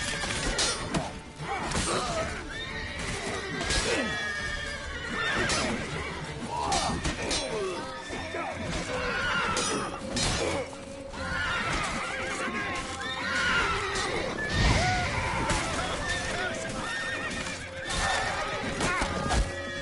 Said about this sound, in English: Me ha pegado el puto caballo.